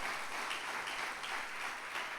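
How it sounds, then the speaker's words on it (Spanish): A church congregation gives applause of praise during a Spanish sermon on the doctrine of Jesus Christ, a continuous wash of many hands clapping at moderate, somewhat distant level with no voices on top. "¿Qué te parece si le das un aplauso de alabanza, mi amado hermano?"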